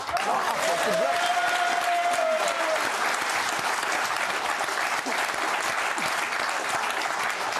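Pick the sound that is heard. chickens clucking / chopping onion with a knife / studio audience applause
studio audience applause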